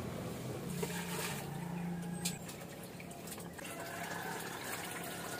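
Sliced luffa (patola) being washed in a bowl of water gives soft, steady sloshing and trickling with faint splashes, quiet and continuous, with no talking.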